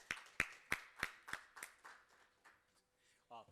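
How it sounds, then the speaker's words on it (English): A few quiet, evenly spaced claps from a small audience at an AI summit, slowing and fading over a couple of seconds before a voice begins speaking. "A round of applause, please."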